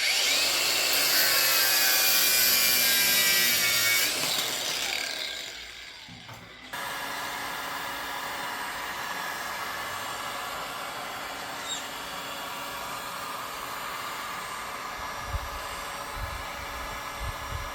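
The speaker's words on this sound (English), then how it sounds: "I'm going to use the R Captain grinder again." An R Captain grinder cuts scrap wood for a Halloween haunted-tree prop, giving a loud, continuous high-pitched whine and grind that cuts off partway through, then a lower, steadier mechanical hum carries on to the end.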